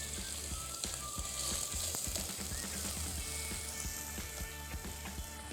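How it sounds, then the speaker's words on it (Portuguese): Diced bacon sizzles in hot olive oil in a pan, a steady, quiet frying hiss with faint crackles and small pops scattered throughout. "a gente pode entrar com bacon cortado em cubinhos"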